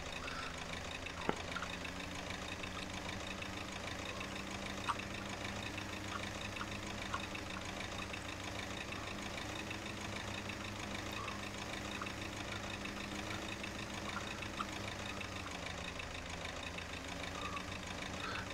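A tractor engine runs steadily at idle, a low continuous rumble with a faint knocking pulse, heard at moderate distance and fairly quiet throughout.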